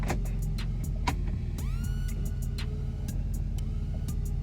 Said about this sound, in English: let's go ahead and take it on the test drive